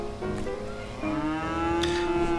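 A cow lets out a long, drawn-out moo, close and loud, alone with no other sounds around it.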